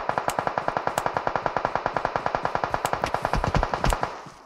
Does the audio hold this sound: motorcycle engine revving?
no